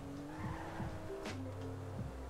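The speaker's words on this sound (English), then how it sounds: "when you hear my tires skid out a bit and a small skid mark appear on the ground behind my wheels" A car in the video game GTA V skids its tires during a brake boost, with repeated short squeals over a steady engine drone, all fairly faint.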